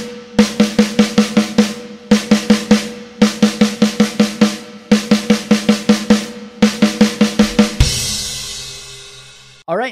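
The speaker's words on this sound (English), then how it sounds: "machine gun snare fill that happens multiple times throughout the song" A drum kit plays a rapid machine gun snare fill in triplet bursts, repeated several times in a steady pattern, loud and close, ending in a crash cymbal wash.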